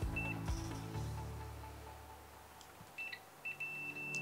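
A multimeter set to continuity mode gives short electronic beeps while testing whether a Makita power tool's winding is still connected, several brief tones near the end over a low steady hum.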